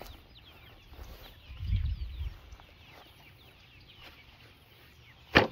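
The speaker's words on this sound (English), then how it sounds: "These are 1 month old chicks, 2 month old, 1 to 2 month olds" A flock of young chicks, one to two months old, peep and chirp softly on a farm, small scattered calls over low outdoor rustling, with a brief louder chirp near the end and no speech.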